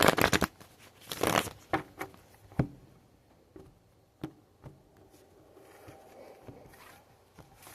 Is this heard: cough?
no